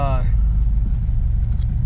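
A car that sat unused for 17 years idles slightly raised after being started, a steady low rumble heard up close throughout.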